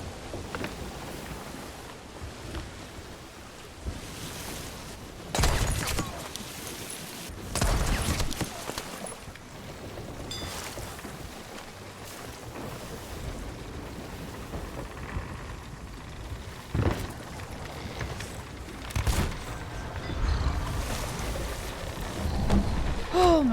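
Stormy weather at sea in a video game, with steady rain and rolling waves, punctuated by several loud crashing surges and gusts that rise and fall repeatedly over the din.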